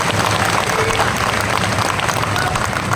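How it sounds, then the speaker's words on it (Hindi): A large crowd at a political speech in Vijayawada, Andhra Pradesh, breaks into thick, continuous applause, loud and steady throughout with a low rumble of voices underneath. "विजय राव जी के लिए और बड्डे राव जी के लिए एक बहुत जोरदार ताली आपकी करनी चाहिए"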